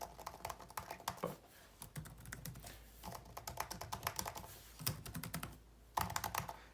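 Rapid, uneven clicking of keys as someone types on the keyboard of an ImagineBook 14 (2020) laptop, with steady bursts of keystrokes close up and no talking.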